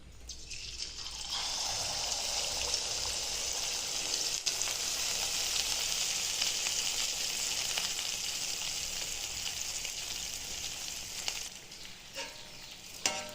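Batter frying in coconut oil gives a steady, bright sizzle that rises sharply at the start and keeps crackling evenly throughout, close and continuous with no talking.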